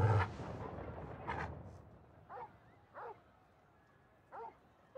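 Torgul the wolfhound in Final Fantasy 16 gives several short barks at a moderate distance, spaced about a second apart, following a louder rumble of in-game noise at the start.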